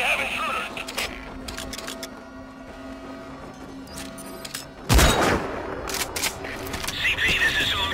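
Gunfire in the stealth video game Metal Gear Solid V: Ground Zeroes, a loud burst of shots around the midpoint set among scattered clicks and game effects, with radio chatter from soldiers heard throughout.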